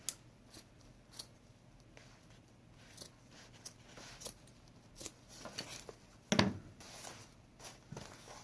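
Scissors trim the edge of a burlap bow in a series of quiet close snips and rustles, ending with one sharper, louder cut near the end.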